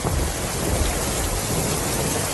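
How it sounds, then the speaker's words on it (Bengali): Cartoon thunderstorm with heavy pouring rain and strong wind: a dense, steady roar of rain with low rumbling thunder underneath, loud and continuous throughout with no voices. "আকাশে জোরে বিদ্যুৎ চমকাতে লাগলো, মুষলধারে বৃষ্টি শুরু হলো, জোরে হাওয়া বইতে শুরু করলো।"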